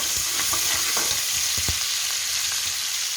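Ginger-garlic paste frying with lightly browned onions in a pan while cooking matar pulao, giving a steady close sizzle with scattered pops and stirring clatter throughout.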